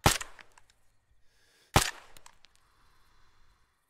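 Two sharp, loud rifle shots in the military game ARMA, fired at a target about 650 meters away, spaced under two seconds apart, each followed by a short fading echo.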